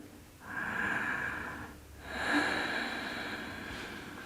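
During a slow yoga flow, a person resting in child's pose takes two long, audible breaths through the nose. Each breath is a close, airy rush that swells and fades, with a short pause between them and no talking.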